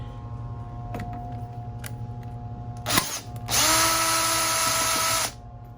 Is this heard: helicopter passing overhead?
no